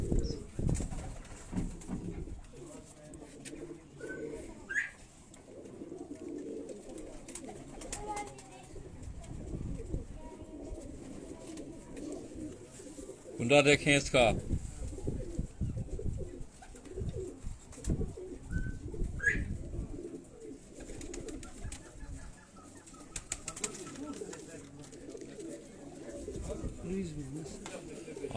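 Teddy pigeons coo close by in a loft, low and repeated. Someone speaks at length over them, and there are occasional flutters and chirps.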